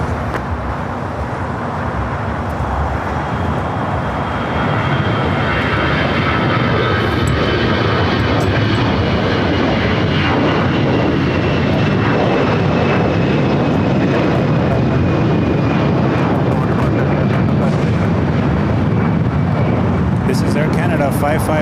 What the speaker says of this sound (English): This is Air Canada 555 going to Vancouver on a 17-year-old A320.